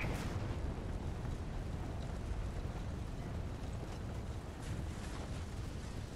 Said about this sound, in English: Mr. Navigator, light the engines.